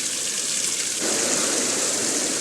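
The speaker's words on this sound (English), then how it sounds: "those clouds of gas and steam condense and rain upon that planet." Heavy rain pouring down with a low thunder rumble in an EPCOT Center attraction, a loud dense hiss that swells about a second in and stays steady, with no talk.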